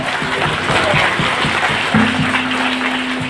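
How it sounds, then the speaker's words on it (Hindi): Loud, dense applause from a crowd fills the whole stretch, steady and continuous, with a sustained hum running underneath. "एक बार जोरदार से हम लोग तालियां बजाएंगे"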